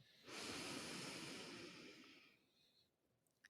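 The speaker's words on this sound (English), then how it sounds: "Breathing in again." A single deep, slow breath drawn in during a guided meditation, a long airy inhale that swells quickly and then gradually fades, close and clear against a quiet background with no talking.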